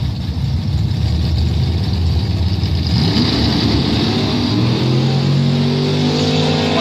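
At a drag strip event, a 1972 Dodge Challenger races a Chevrolet: loud engines roar continuously, rising in pitch as the cars accelerate hard away down the track, with no talk over the noise.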